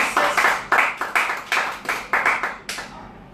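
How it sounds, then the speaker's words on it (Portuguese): A short round of applause on a talk show, only a few people clapping, heard as about a dozen separate, sharp claps in an uneven rhythm that fade out near the end. "uma salva de palmas"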